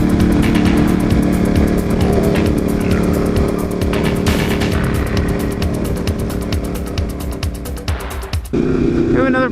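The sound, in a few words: Ducati 959 motorcycle riding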